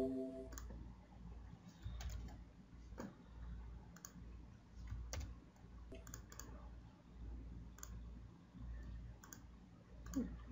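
Code is typed on a computer keyboard, with soft, irregular key clicks and occasional sharper taps spread across a quiet room.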